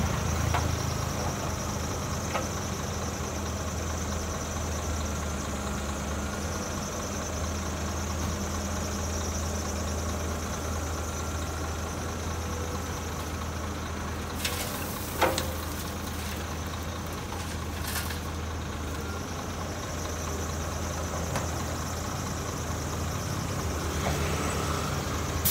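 A yellow CAT excavator's diesel engine drones steadily at a quarry while it loads rocks onto a dump truck, a constant low rumble with a few brief clanks partway through.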